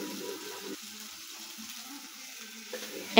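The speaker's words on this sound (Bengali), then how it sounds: "এখন খুব ভালো করে নেড়ে চেড়ে মিক্স করে নিচ্ছি মশলাগুলোকে" Ground coriander and cumin being stirred in a frying pan, a quiet low sizzle with soft scraping and mixing sounds, fairly even throughout with no talking.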